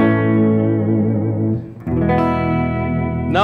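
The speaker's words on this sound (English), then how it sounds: "I also got this Seymour Duncan distortion pickup here," Electric guitar through a Seymour Duncan distortion pickup, heavily distorted, rings out sustained chords, one fading, a short break, then another strong chord ringing with effects-laden sustain.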